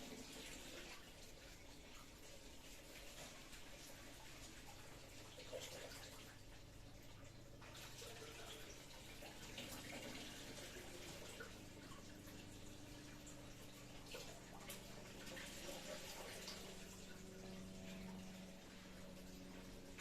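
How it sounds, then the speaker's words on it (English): Raw pawpaw and its seeds rinsed under a running sink tap, a faint, steady stream of water splashing continuously, with soft clatter and a low hum beneath it. "let me go to the sink and rinse"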